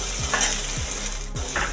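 Finely chopped onions for chole frying in a pan, a steady bright sizzle throughout with a few scraping stirs of a spoon, close and moderately loud, without talking.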